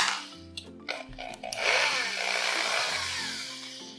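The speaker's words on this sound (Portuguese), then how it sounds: "Nós vamos utilizar aqui de novo a parafusadeira, soltar os parafusos." Cordless screwdriver loosening the screws that hold the carburetor halves together on a motorcycle engine: short whirring bursts near the start, then a steady buzzing drive for the remaining seconds, close and fairly loud.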